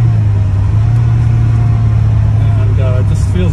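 A 1970 Lancia Fulvia 1.3S Sport Zagato engine drones steadily from inside the car while driving, a low, even rumble that holds throughout. Someone talks over it.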